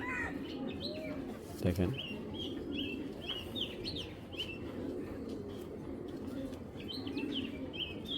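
A pair of Army Knot pigeons coos low and steadily beneath someone talking, while small bird chirps flicker above throughout.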